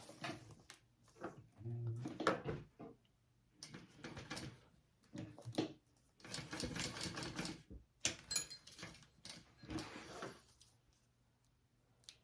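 A sewing machine bastes a crossbody bag seam in short bursts of rapid stitching separated by pauses, with handling noise and clicks in between.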